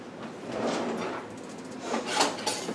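A kitchen drawer slides open with a woody rub and a faint clatter as a knife is fetched for chopping fresh herbs, a short close scrape rising and falling over about three seconds.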